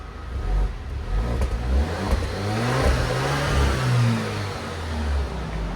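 A 2020 Alfa Romeo Stelvio SUV engine revs up and eases off a few times, a low throaty exhaust rumble swelling and falling at about 80 decibels, close by with no talking.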